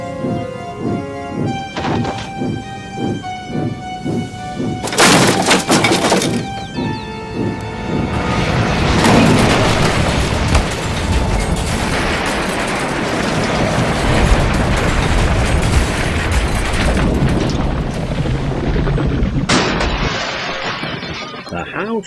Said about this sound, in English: The house rocked, broken glass tinkled, plaster peppered their plates.